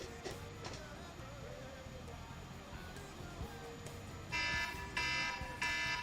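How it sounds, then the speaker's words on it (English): Electronic alarm beeps in three long, loud bursts near the end, over a quiet background with faint rumbling and brief earlier tones. "why is there an alarm going off?"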